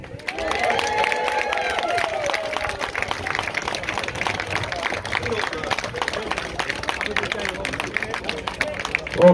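A crowd claps at a street demonstration in Oldham, a steady patter of many hands sustained for several seconds while voices talk over it.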